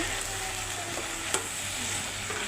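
Turmeric and chili powder sautéing in a hot pan for a thin fish curry with stalks, a steady close sizzle with faint stirring scrapes and one sharp clink midway.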